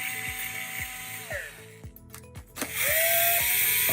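Power screwdriver backing Phillips head screws out of a TS811 ultrasonic monitor casing, a series of short whirring bursts with rising and falling pitch, close and clear, separated by brief clicks and pauses.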